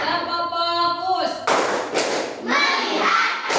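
A roomful of young pupils finishes a rhythmic clap routine in class, a chanted phrase followed by a few loud, slightly ragged bursts of clapping mixed with children's voices.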